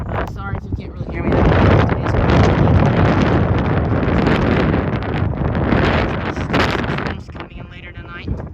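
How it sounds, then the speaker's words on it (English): Strong wind gusts roar loudly across a microphone in a hilltop spot in Springfield, Tennessee, near a tornado siren ahead of incoming rain, a dense buffeting rush that swells and eases, with someone talking briefly at the start and end. "It always gets windy up here in Springfield."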